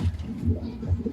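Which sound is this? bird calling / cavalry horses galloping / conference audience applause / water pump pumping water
bird calling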